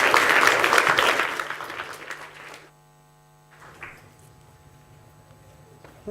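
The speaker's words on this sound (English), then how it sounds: "So give them a round of applause and let's get started" An audience at an electronic music and visuals event claps in a burst of applause that fades out after a few seconds, leaving a low electrical hum.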